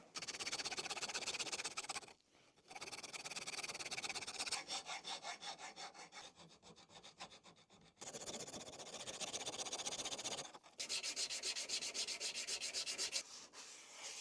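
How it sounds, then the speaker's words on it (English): Parts of a small model plane are filed and sanded smooth in rapid, close rasping strokes that come in bursts with brief pauses. "going to file these, get them sanded down nice and smooth"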